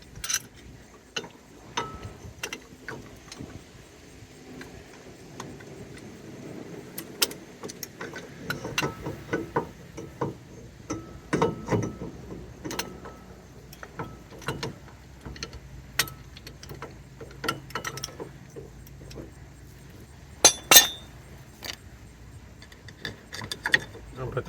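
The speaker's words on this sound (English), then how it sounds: "What I'm going to use is the C-clamp to push the caliper back" A C-clamp pushes a brake caliper piston back on a Cutlass during front wheel bearing work, heard as scattered close metallic clicks, ratcheting and tool clatter with irregular knocks and faint background noise.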